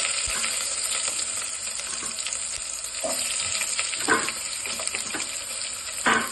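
Chopped onions hit hot oil with cashews already frying in the pan, a loud, dense sizzle running throughout with occasional clinks and scrapes of stirring, no talking.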